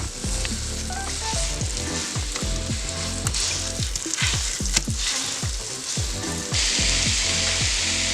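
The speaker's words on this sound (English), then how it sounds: "next thing we're going to do here is just brown that mixture of venison" Ground venison mixture browns in a hot pan with a steady, loud sizzle, broken by repeated scraping and stirring clatters from a utensil, growing a little brighter near the end.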